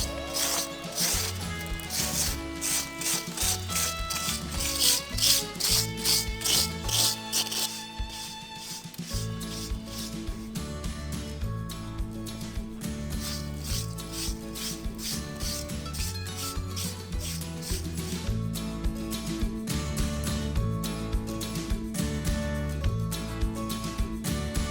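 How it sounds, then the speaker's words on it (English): Steady, rhythmic rasping as a tool scrapes lime mortar from the joints of old granite ruin walls, continuous and close, with repeated strokes running throughout. "So on the outside we scrape a lot, and on the inside we scrape just roughly so that the organic is out."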